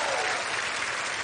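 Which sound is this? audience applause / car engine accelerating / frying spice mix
audience applause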